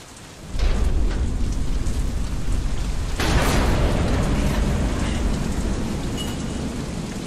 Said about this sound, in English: Damn storm.